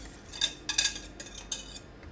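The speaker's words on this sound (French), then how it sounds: "Et on remue" Spoon scraping and clinking against a saucepan while stirring crème anglaise, a handful of short metallic taps and scrapes in an uneven rhythm, close and clear with no talk.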